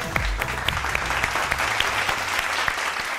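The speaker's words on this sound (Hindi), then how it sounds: "इनके लिए तालियां।" Applause from a small TV game-show audience, a steady patter of hand claps lasting a few seconds, close and moderately loud.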